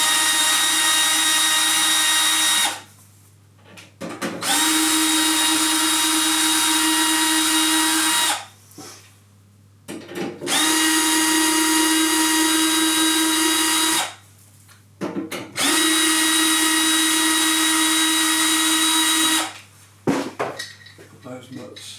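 Phillips screwdriver fastening handles and nuts onto an Osmio Infinity water machine, loud sustained grinding passes of several seconds each, four in a row separated by brief gaps.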